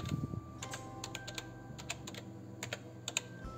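Light, quick keystrokes on a computer keyboard tap out a short word, a string of crisp close clicks in an irregular rhythm over a quiet background, with no one speaking.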